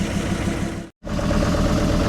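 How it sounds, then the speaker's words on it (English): A Kubota M125X tractor's diesel engine runs rough after warming up, a steady loud low rumble with uneven knocking pulses, broken by a brief full cutout near the middle before the running resumes. "now that the tractor's warmed up, the smoke is cleared, but it still don't sound good"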